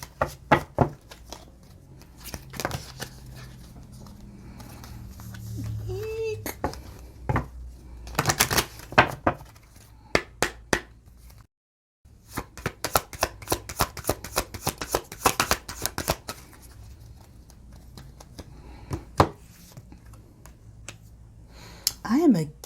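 An oracle card drawn from a deck: repeated close, crisp card flicks and shuffling snaps, rapid and rhythmic in bursts, with a voice talking between them and a brief silent gap midway.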